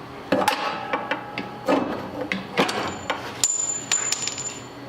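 A big hammer strikes a rusty lower control arm on a 2005–2014 Ford Mustang GT, several sharp metallic bangs landing at uneven intervals, close and loud, with a faint ringing tone lingering between some of the blows.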